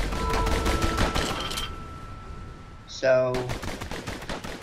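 Gunfire from a weapon in the video game Bastion: a rapid burst of shots near the start, a pause, then a sharp ringing shot with a fast rattling tail, under game music and a brief spoken word.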